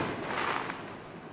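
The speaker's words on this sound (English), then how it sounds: "fireworks." Fireworks go off in a dense, continuous crackling wash, loud and steady for the whole moment, with no distinct pauses and no voices.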